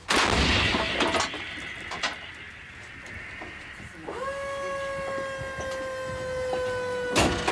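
An artillery cannon fires a sharp blast at the start, then a sustained high whine slides down and holds steady, with more sharp bangs later; no talking.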